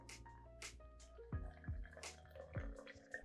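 Water poured into a bottle while mixing a gin cocktail with dry vermouth, a few glugging splashes with drips, moderately quiet and close, no talking.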